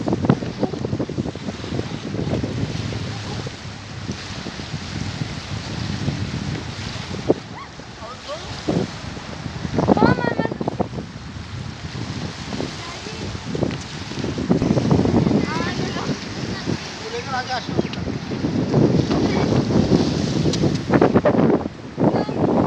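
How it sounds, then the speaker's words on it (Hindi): Strong gusts by the water in Qatar buffet the microphone in loud, uneven surges, with lapping waves beneath and a person talking over parts of it. "ये देखिए आज जो है वो हवा थोड़ी तेज़ है"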